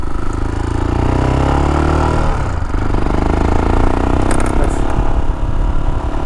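A Royal Enfield Himalayan with a 462 big bore kit engine runs loud and close, rising in pitch then settling into a rough, pulsing mid-range rumble with some clatter, no voices.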